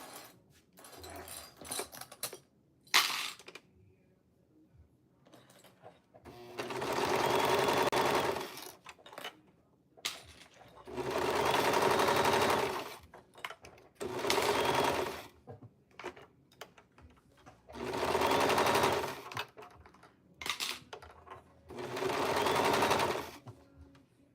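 A sewing machine stitches down the side of a garment in five sustained bursts of about two seconds each, fairly close and steady, separated by brief pauses with small handling clicks between runs.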